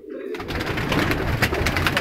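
Golden jira pigeons coo in a steady low murmur, several birds overlapping close by with soft fluttering and rustle throughout.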